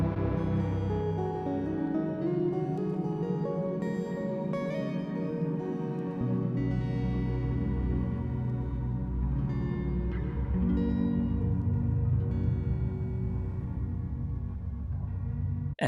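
Electric guitar run through a Sonicware Texture Lab granular effect an octave down: a continuous wash of deep, smeared notes and chords evolving over time, steady in level, with no voices.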